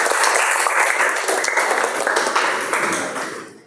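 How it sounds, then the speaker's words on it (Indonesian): A room of students claps for classmates after their presentations in an Islamic religious education class, a dense burst of applause that holds steady, then thins and fades toward the end. "Beri aplaus untuk kalian semua."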